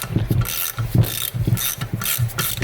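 A ratchet wrench rapidly clicks in short, repeated bursts while loosening bolts on junkyard GM LS V8 cylinder heads (4.8/5.3/6.0), with a close, sharp metallic rhythm about twice per second.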